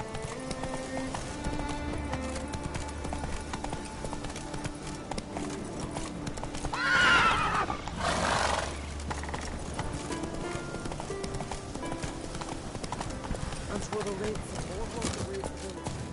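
Roach, the horse from The Witcher, gallops with steady rhythmic hoofbeats through the whole stretch, a whinny and a louder burst rising midway, with game music and voices underneath.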